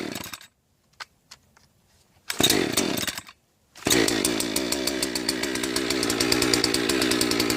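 A 62 cc TIMBERPRO chainsaw cold-started: a couple of short pull-start bursts and a brief sputter separated by silence, then the engine catches and runs at a loud, steady idle.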